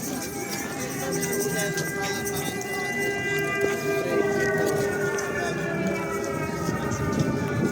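An air raid siren wails over Lviv during a street festival, a long sustained rising and falling tone that carries over a busy outdoor crowd. People talk in the background.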